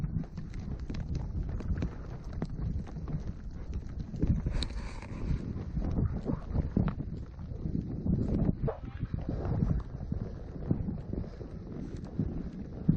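Steady clip-clop of horse hooves on a mountain trail in the Eagle Cap area during a mule deer hunt, a continuous rhythmic plodding close by, with gusty wind rumbling across the microphone.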